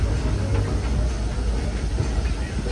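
Disneyland Railroad train rolling along its rails through a jungle stretch, a steady low rumble and rattle of wheels and cars continuing without a break, fairly loud and close.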